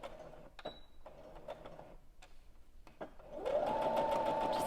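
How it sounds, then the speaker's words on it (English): A sewing machine starts stitching a fabric scrunchie after a few clicks and taps of setup, then runs in a steady loud whir for the last second or so. "Just going to sew along the edge here."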